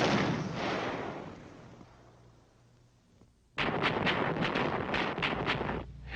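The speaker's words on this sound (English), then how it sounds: "Phase 2 of the assault finds the division artillery beginning to pound the target area." Division artillery fires on a target area during an infantry division assault, with a distant rumbling barrage fading out, then a fresh burst of repeated heavy booms and rolling reports.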